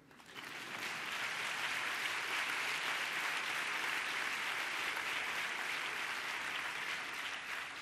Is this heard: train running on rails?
no